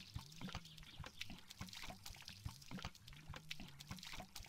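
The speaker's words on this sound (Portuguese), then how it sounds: "Deixa eu encher logo aqui o motor do barco." Fuel pours in a steady trickling stream into a boat motor tank in the driving game My Summer Car, faint and continuous with no talking.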